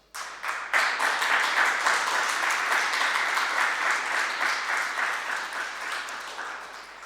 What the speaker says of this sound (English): this is now the applause for the storytellers